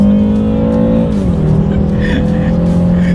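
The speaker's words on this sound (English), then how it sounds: "let's do a quick little acceleration on these back roads, see how quickly we can get the new 2019 330i sedan here, X-Drive, in sport mode" A 2019 BMW 330i xDrive sedan in sport mode accelerates hard on back roads, its engine note rising, dipping at a gear change, then climbing again, loud and close from inside the cabin.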